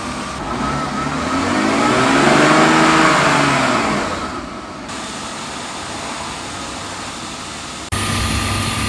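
A BMW E38 engine idles and revs as the car pulls out of a garage, with a swelling mid-pitched drone that peaks and then settles into a steady idle, close and loud.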